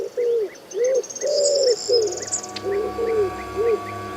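Wood pigeons in Extremadura coo in a rhythmic series of soft, close calls, with small bird chirps and a faint insect-like buzz underneath.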